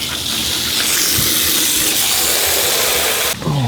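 Water gushes steadily from a tap for several seconds to fill a drink for two dogs, a loud continuous hiss that cuts off abruptly near the end.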